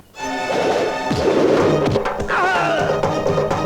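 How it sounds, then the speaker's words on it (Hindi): A kick lands in a dubbed South Indian film fight scene, a loud impact thwack amid a dense, busy soundtrack of music and effects, with sharp hits and swooshes throughout. "लगा रे पैर की मार"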